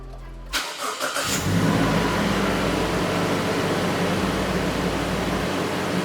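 A Toyota Land Cruiser Prado TX.L from the 2013-2021 line-up cranks briefly and fires, then settles into a steady, loud idle with a broad engine hum that continues to the end.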